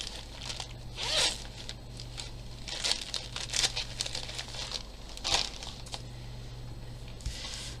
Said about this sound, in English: I'm going to grab some double-sided tape